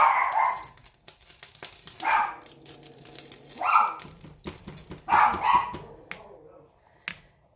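A dog barks at a mail carrier arriving at the house, giving four loud bursts of barking spaced a second or two apart, with a shorter yip near the end and quieter household sounds between the barks.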